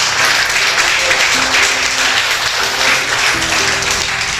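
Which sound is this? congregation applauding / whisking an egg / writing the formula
congregation applauding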